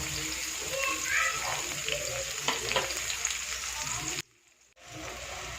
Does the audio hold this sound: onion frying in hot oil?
yes